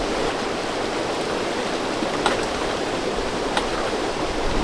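A river in Zimbabwe rushes steadily, a close, broad wash of flowing water filling the whole stretch with a couple of faint splashes and no speech.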